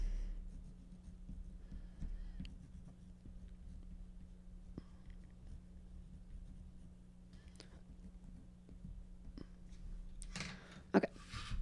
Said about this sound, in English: we do need to write our name and class on the back of our artwork on a popsicle stick